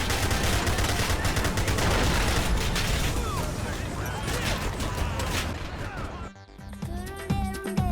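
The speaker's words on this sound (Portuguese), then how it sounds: "instalar um pacote com novos sons muito mais realistas, tanto para os disparos, ao recarregar e até para as explosões" Dense, continuous video game gunfire from a GTA IV sound mod, rapid bursts and booming impacts, loud and chaotic, with a sharp cut to more scattered shots near the end.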